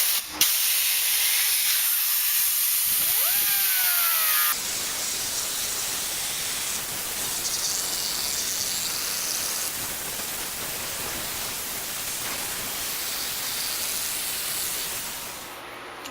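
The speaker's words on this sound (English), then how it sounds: "burr on a 1/4 inch air die grinder" A 1/4 inch air die grinder running a burr, a steady loud high-pitched pneumatic hiss and whine that holds throughout, shifting slightly in tone as the burr cuts, with a faint rising whistle early on.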